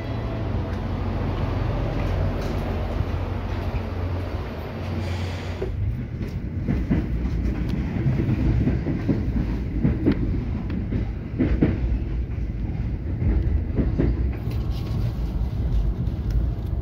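A train riding through Riga on the Toņkalns–Tukums line toward Imanta, heard from on board: a steady low rumble and rattle of the railcar throughout, with rhythmic clickety-clack over the rails and a shift in tone partway through.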